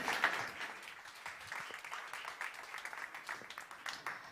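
At a startup competition on education, an audience applauds a speaker coming on stage: a continuous spread of many hands clapping at moderate loudness, fairly even throughout.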